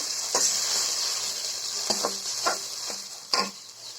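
Whole cinnamon, cardamom, cloves and bay leaves frying in hot oil in a pan, a steady bright sizzle broken by a few distinct clinks and scrapes of stirring.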